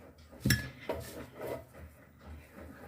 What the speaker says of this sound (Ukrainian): вичищаємо каструльку, щоб граминочки не залишилось